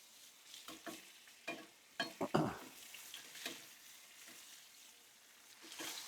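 A blackened steak sizzles quietly in a pan as it is flipped and basted, with soft crackling frying and a few sharp scraping, clinking strikes of a utensil against the pan.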